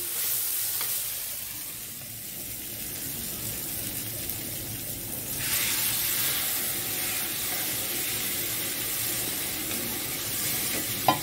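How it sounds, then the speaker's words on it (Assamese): Water poured into a hot pan of fried dal gives a steady, loud sizzle and hiss, rising abruptly about halfway through into a stronger, continuous spitting roar with no talk. "এতিয়া পানী দি দিম।"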